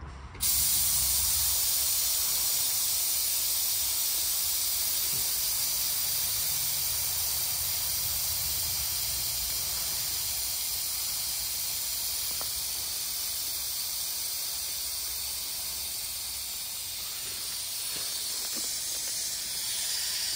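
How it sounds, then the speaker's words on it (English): Air suspension on a Kenworth semi truck being dumped, a loud, steady hiss of escaping air that runs without a break for about twenty seconds, fading slightly toward the end. "So you want to dump the suspension? Dump it."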